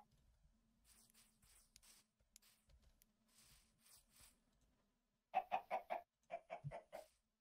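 Chickens in a modded Minecraft 1.20 world give a quick run of bright, clucking calls late on, near and distinct, after soft earlier sounds and faint talk.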